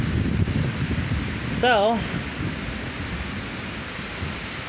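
A severe thunderstorm in Pittsburg, Kansas blows as a steady roaring wash of wind and rain buffeting the microphone, with someone speaking briefly partway through.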